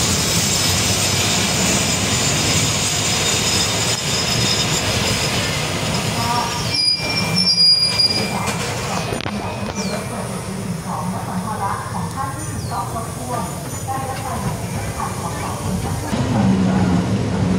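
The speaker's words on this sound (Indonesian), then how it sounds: "kereta api lokal 452 berhenti di stasiun Russo untuk bersilang dengan kereta api lokal nomor 463" Local train 452 stands at Russo station in Thailand, waiting to cross local train 463. A steady rumble of rail and engine noise carries throughout, broken by brief clanks and squeals, with voices in the background.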